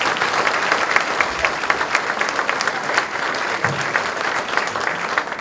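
Applause fills a library talk hall as a live audience claps steadily and fairly loudly throughout, with a dense patter and regular sharp accents and no voices over it.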